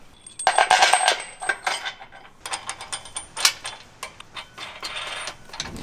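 Steel bolts, nuts and washers for Jeep JL Wrangler Unlimited frame-mounted rock sliders being handled, with bright metallic clinks and jingles in repeated clusters, close and clear, with no talking.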